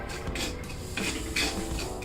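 Salt is roasted and stirred in a hot kadai with the gas turned off, giving soft metallic scraping and gritty rustling with a few light clinks at a close, quiet level.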